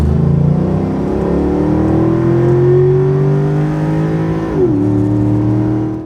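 A Mercedes E55 AMG with a modified quick-shifting transmission accelerates hard and loud close by, its engine note climbing through the gears with a sharp, quick shift break near the end before pulling up again.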